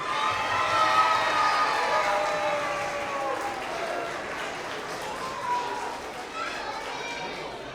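Applause from a school assembly crowd for kindergarten award-winning readers, a dense patter of clapping loudest at the start and gradually thinning, with children's chatter and a voice mixed in.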